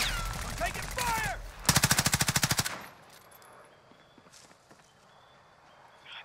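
Call of Duty Warzone gunfire. A rapid automatic burst of about a dozen evenly spaced shots rings out close and loud after some louder action. Fainter distant battle noise follows, and a voice speaks briefly.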